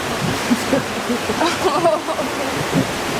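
Water rushes through the AuSable Chasm in a constant, full roar, with brief voices breaking in over it partway through.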